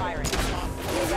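Rapid bursts of gunfire in the video game Mass Effect 2, dense and loud over a low rumble, with game voices and effects mixed in throughout the short stretch.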